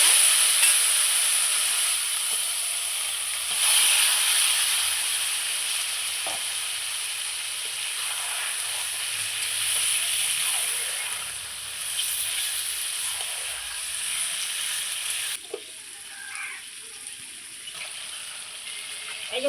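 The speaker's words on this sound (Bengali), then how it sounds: "দেখুন আমি এই খাসির মাংসটা এখন কড়াইয়ে দিয়ে দেবো।" Spice-marinated mutton sizzles in a hot kadai with no tempering added, a loud, steady hiss with occasional stirring scrapes and a few brief spits throughout.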